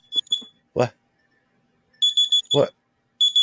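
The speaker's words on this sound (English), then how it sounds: "That's my alarm." An alarm sounds in short bursts of high, bright electronic beeps, loud and close, with a pause between rounds. Two brief spoken interjections fall between the bursts.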